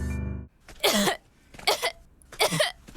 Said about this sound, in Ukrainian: Прийшла зі школи, почала кашляти